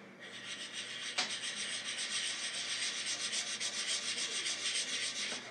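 Wet sanding a guitar's finish with 1200-grit wet/dry sandpaper makes a close, rhythmic rubbing swish, repeated back-and-forth strokes at a steady pace, with no talking.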